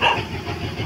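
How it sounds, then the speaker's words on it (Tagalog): A single short dog bark rings out close by over a low rumble of passing traffic. "Tumahol ang aso namin"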